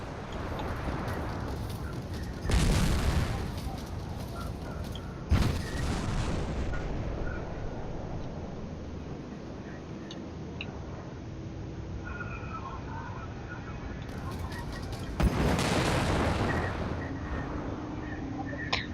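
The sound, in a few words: plasma cannon fire in video game Strike Suit Zero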